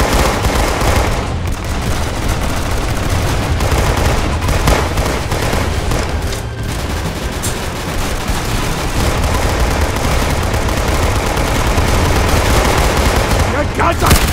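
Video game gunfire, a loud, relentless barrage of machine-gun bursts and shots layered over one another without pause, with a voice occasionally speaking beneath the din.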